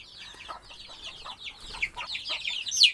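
Native chickens cluck softly and continuously nearby, with overlapping short calls and one slightly louder squawk near the end.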